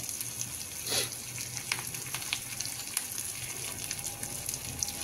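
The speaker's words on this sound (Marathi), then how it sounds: "याला छान आपण असं परतून घेऊया" Curry leaves with paste being sautéed in a pan for sambar give a steady, moderate sizzle and frying hiss, with faint scrapes and clinks of a stirring spoon over a low, even background, and no talking.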